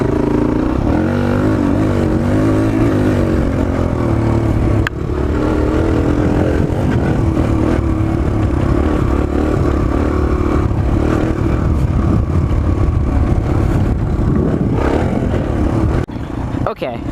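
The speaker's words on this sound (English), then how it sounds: "this is my 2019 DR-Z 125L that I just got yesterday" A 2019 Suzuki DR-Z 125L motorcycle runs loud and steady while being ridden, its engine drone shifting in pitch with a dip near the middle as a rider talks over it.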